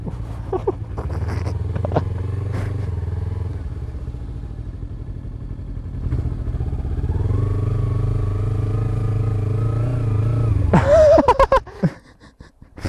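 Motorcycle ridden into someone's yard in 50°C heat, engine droning steadily, dipping, then rising again as it accelerates, with a sharp burst of revving and clatter near the end.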